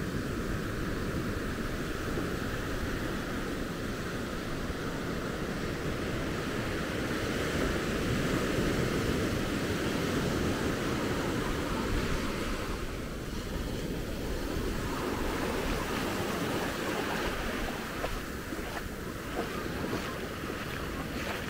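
Ocean waves and surf wash steadily along the beach at Maspalomas, Gran Canaria, as the tide turns to ebb, a continuous broadband roar mixed with gusting wind noise on the microphone, with no talking.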